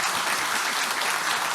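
Audience applause at a Red Dead Redemption 2 talk event, a steady dense wash of clapping from a crowd, loud and continuous without talk.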